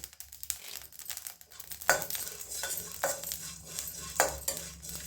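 Cumin seeds and curry leaves sizzle in hot oil as a spoon stirs and scrapes the pan, a steady crackle punctuated by several sharp metallic clinks, close and moderately loud with no talking.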